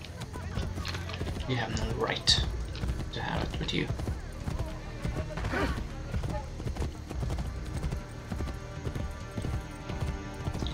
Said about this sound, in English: This is my horse now.